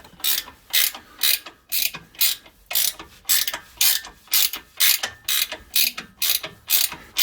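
A ratchet wrench works a rusty shock absorber bolt on a Suzuki Jimny, giving loud, close, regular bursts of clicking, each stroke about half a second long with short gaps between, and no talking.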